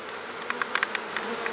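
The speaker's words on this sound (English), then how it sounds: "Look at this bee just lapping up on some nectar that fell out of the hive, eh?" Honeybees buzz around a freshly installed nuc hive, a close, steady insect hum with several sharp nearby wing-buzz bursts as individual bees pass the microphone.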